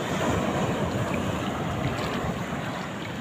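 Continuous rushing surf of large waves, with heavy wind buffeting the microphone and no pauses.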